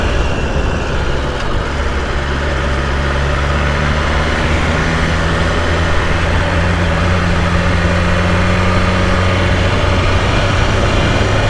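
A BMW S1000RR sport motorcycle engine runs loud and steady, a dense mechanical drone whose pitch slowly rises and shifts.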